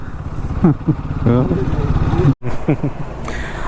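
A Royal Enfield Himalayan 450 adventure motorcycle idles with a low, steady thumping rumble nearby while people talk loudly over it.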